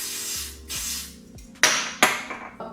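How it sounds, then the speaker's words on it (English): L'Oreal Infallible 3-second setting mist is sprayed in two sharp, close hisses, each with a quick fade. Softer rustling handling sounds come before and after. "This is the L'Oreal Infallible 3-second setting mist."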